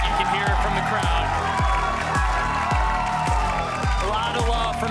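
Crowd in the Riot Games Arena at a Valorant esports match cheering and roaring continuously, loud and sustained, with a commentator's voice and rhythmic thumping beats running under the noise.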